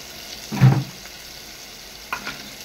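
Ground goda masala spice paste dropped into a hot frying pan gives one short burst of sizzle that fades quickly, followed by a faint second crackle, close and otherwise quiet.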